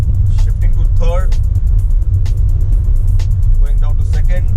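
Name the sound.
Hyundai Venue i-MT car engine while shifting down gears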